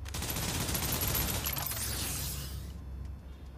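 A rapid burst of gunfire in a shooting video game, dense automatic shots rattling loudly for a couple of seconds before trailing off into quieter game ambience.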